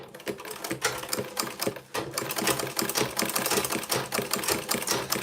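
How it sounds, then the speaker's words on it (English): A sewing machine bastes the lining of a waist bag with a 1/4 inch seam, chattering in quick, steady rhythmic stitching that pauses briefly and then runs on close and clear without speech. "I'm just going to base with my machine all around to the lining."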